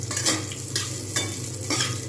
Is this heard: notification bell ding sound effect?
no